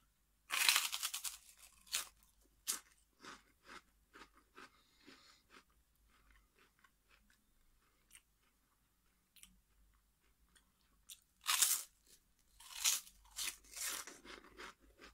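Loud, crisp crunches of someone biting into prawn crisps come in bursts, with quieter chewing between them.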